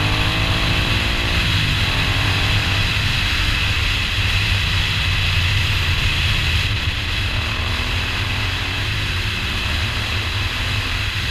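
Motorcycle engine droning steadily and close throughout while another bike overtakes, with a rising pass tone underneath and constant wind rush, on a road ride aboard a Moto Guzzi V9 Roamer fitted with an Agostini exhaust.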